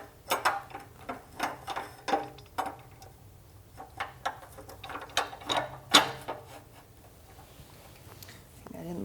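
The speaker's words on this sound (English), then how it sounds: "So I'm going to have to loosen these screws." Screws are loosened on a metal frame in a garage, producing a run of close, uneven ratcheting clicks and tool taps in short bursts, with quiet gaps between them.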